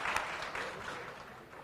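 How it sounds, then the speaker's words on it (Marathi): Brief burst of audience clapping at a political gathering in Nagpur, moderately distant and fairly quiet, a dense even patter lasting under two seconds. "मी आपणा सगळ्यांना विनंती करेल की जोरदार टाळ्या वाजवून आपल्या देवेंद्र करावं।"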